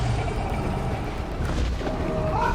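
Circular area attacks detonating in Throne and Liberty, a low rumbling boom that swells and rolls on with continuous blast noise, loud, with a brief rising tone near the end.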